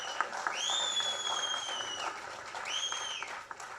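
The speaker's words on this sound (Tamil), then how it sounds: "அங்கே கனிஷ்கா அவனுடைய நண்பர்கள் தனியாக அவனுக்கு வந்து ஹோலர் பண்ணி கைத்தட்டிக்கிட்டே இருக்காங்க" An audience in a cinema theatre claps steadily, with two long, shrill whistles cutting over the applause.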